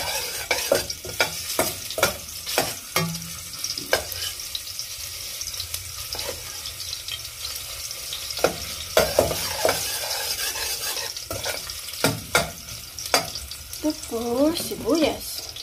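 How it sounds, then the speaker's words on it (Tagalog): Chopped ginger sautéing in a pan for Filipino ginataang tilapia with kamias, a steady sizzle broken by repeated scraping and stirring clicks of a utensil, close and fairly loud, with a brief burst of running tap water near the end. "Unahin natin yung luya. Gisa-gisa lang to"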